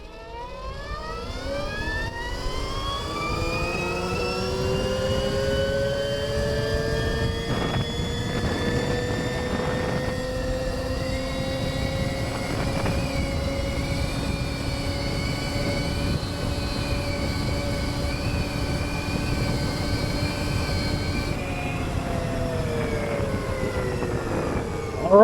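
A Goat Power Dirt Goat 96v v2 electric bike accelerates hard in Sport Plus mode during a speed test, its motor whine rising steadily in pitch like a supercharger, loud and continuous before easing off near the end.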